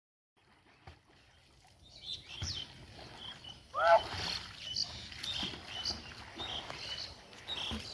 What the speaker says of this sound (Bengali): বিশাল পুকুরে এরা দেখো সুইমিং করছে।